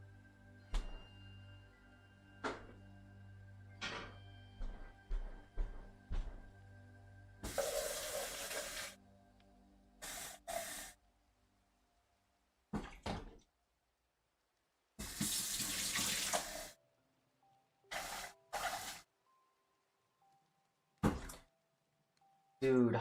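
Tap water runs into a container in a kitchen in a few separate bursts of rushing flow, close and clear, between clinks, thuds and quiet gaps, with talk at the start.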